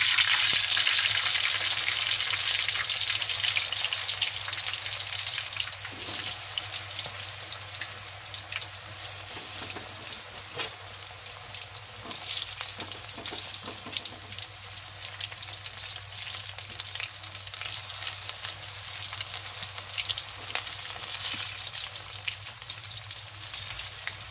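Chicken wings for buffalo wings fry in hot oil, a dense, continuous sizzle with crackling pops and occasional stirring clatter, loudest at the start and then settling to a steady bubbling hiss.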